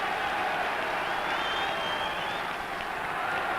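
West Bromwich Albion supporters booing in a packed stadium at the 1967 League Cup Final against Queens Park Rangers, a steady broad crowd roar sustained throughout, with no clear individual voices rising above it.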